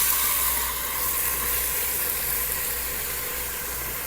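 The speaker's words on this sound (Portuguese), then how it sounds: "A panela já tá bem quente, vou começar colocando esse frango todo aqui dentro." Chicken pieces sizzle and crackle in a very hot pan, a loud, steady frying hiss that runs continuously with no talking over it.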